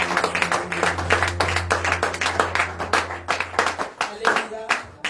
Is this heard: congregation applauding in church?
yes